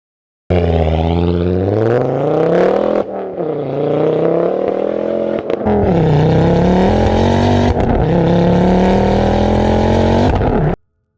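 A Ford Focus RS engine revs hard and loud, running up through several gears with sharp upshift breaks and a growling exhaust note, sustained and close for about ten seconds.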